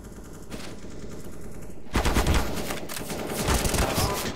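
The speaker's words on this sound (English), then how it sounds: "He's firing at me again before he can even see me." Gunfire in Counter-Strike (CSGO): dense bursts of rapid shots start abruptly about two seconds in and continue in loud, choppy volleys, with a quieter stretch of game ambience beforehand.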